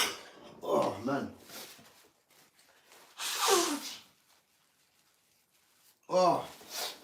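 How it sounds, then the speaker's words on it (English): A man sneezes from hay fever, with sharp bursts at about one, three and a half and six seconds, each close and loud, and brief vocal sounds between them. "I've been sneezing the whole day."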